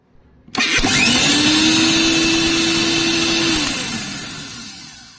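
A mixer grinder whirs up loudly and runs steadily, grinding garlic cloves, ginger and coriander into a paste. The motor drones with a constant pitch for about three seconds, then winds down and fades as it spins to a stop.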